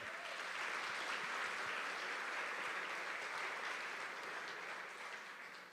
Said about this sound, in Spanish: Denle un aplauso a Dios porque no.